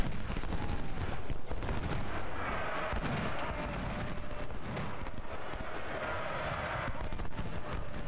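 Dense cannon and artillery fire in the video game Ultimate General: Civil War, continuous rumbling booms and crackling volleys filling the whole stretch, loud and sustained.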